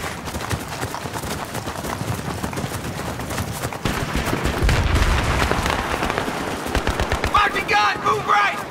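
Rapid machine gun fire in Battlefield 3, a steady chatter of many quick shots with near and distant bursts under battle noise, plus shouted voices toward the end.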